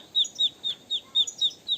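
Swimming ducklings peep in a quick, regular series of high chirps, close and clear, about eight calls in under two seconds.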